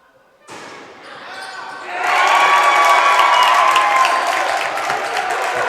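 Basketball crowd at a boys varsity high school game, Otter Valley against Mt Abe, cheering and applauding for the Eagles, swelling from a modest murmur into a loud, sustained roar that holds to the end, with a commentator talking over it.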